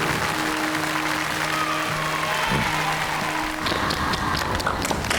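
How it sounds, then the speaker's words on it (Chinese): Audience applause for the musicians and music teachers at a Chinese-music stage competition show, a steady dense wash of clapping that swells slightly near the end, with a sustained musical tone underneath. "为我们的音乐总监和所有身边的音乐家们、音乐老师们鼓鼓掌"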